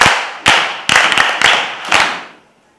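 A short burst of hands clapping, several loud claps in quick succession and then fading, without any talking.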